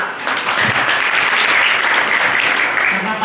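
Sustained, fairly loud audience applause for a district head at a human rights festival in a Semarang neighborhood, dense clapping steady throughout with a faint murmur of voices beneath.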